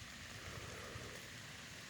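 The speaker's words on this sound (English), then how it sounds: "it started raining hard" Heavy rain pours down outdoors in a backyard, a dense, steady hiss of drops striking the ground, quiet and continuous for the whole moment.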